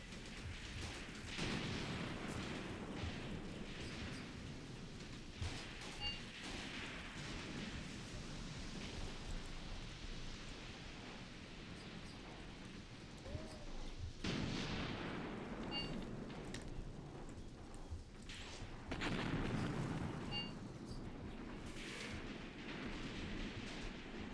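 A Graviteam Tactics battle rumbles on with a constant low roar of distant gunfire and artillery, with occasional heavier booms swelling out of the dense background.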